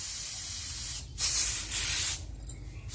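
A pressure cooker holding whole moong dal releases steam in loud hissing bursts, two strong spurts separated by a quieter steady hiss, close up with no talk.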